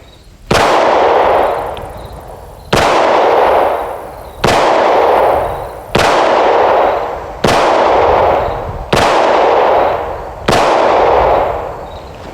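Seven loud, sharp gunshots from a Hi Point YC9 pistol ring out at a slow, fairly even pace, each crack followed by a long echoing decay outdoors with no talking between shots.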